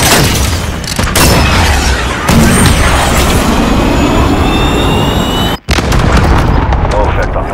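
Artillery strike called in during Call of Duty: Modern Warfare gameplay: loud, continuous rumbling booms and blasts with a jet-like roar overhead, broken by a sharp cut before the barrage resumes.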